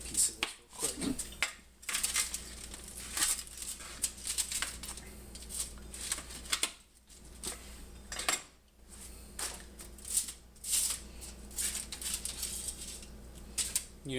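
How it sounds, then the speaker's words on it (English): A pizza cutter scrapes stuck cheese off a plate beside a homemade flatbread pizza, giving repeated close metallic scratches and clinks in short bursts over a faint steady hum. "I got the pizza cutter here, so I'm just gonna scrape it off from where that cheese attached to the plate"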